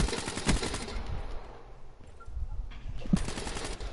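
Shotgun fire in a first-person shooter video game: loud, close bursts of shots at the start and again near the end, with quieter gameplay noise between and no talk.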